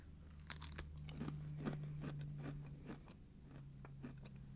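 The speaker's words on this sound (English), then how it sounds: "You can probably hear the crunching." Close, crisp crunching bites of Carnivore Crisps, several sharp crackles followed by repeated chewing crunches at an irregular pace.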